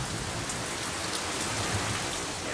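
Steady rain falls, a dense, even patter heard alone at a modest level with no pauses.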